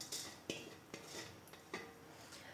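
A utensil scraping and clinking against a metal cooking pot as it is cleaned before rice is cooked: faint, evenly spaced metallic strokes about twice a second.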